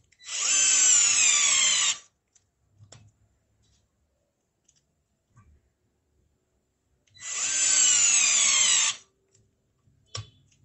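Deli 3.6V cordless electric screwdriver set to torque level 2, whirring loudly for about two seconds, stopping, then running again for another two-second burst, with faint clicks between runs.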